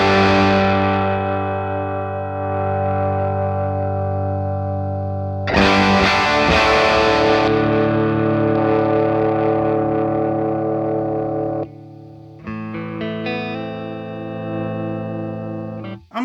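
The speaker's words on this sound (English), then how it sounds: "Let's do a Les Paul. See what that sounds like." Gibson Les Paul guitar through a Dr. Z Z-80 amp, a tribute to the Vox AC-80, with a distorted tone: long sustained chords ring out, then a fresh strum hits and is followed by a few shorter plucked notes. The playing is loud and steady, with no voice.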